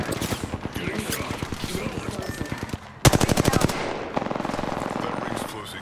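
Rapid automatic gunfire from an R-301 rifle in Apex Legends rattles in dense bursts, with a sharper, louder volley midway and quicker trailing shots, all over continuous game sound.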